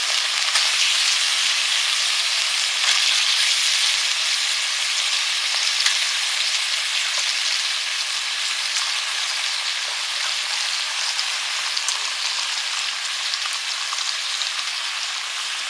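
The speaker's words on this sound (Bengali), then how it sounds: "এবার মাংসগুলো দিয়ে দিচ্ছি" Chicken pieces hiss and sizzle loudly in hot oil in a pan, a dense, steady frying crackle that holds evenly throughout with no voices.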